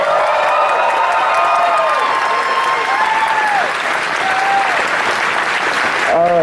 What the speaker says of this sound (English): Can we please give her a big round of applause?